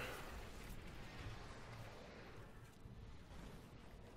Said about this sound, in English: Teleport through those explosions.